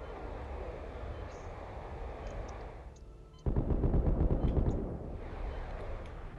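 Gunfire in the sci-fi horror game Dead Space 3: a dense burst of rapid, loud shots kicks in mid-clip over a steady ambient rumble, then eases back into background noise.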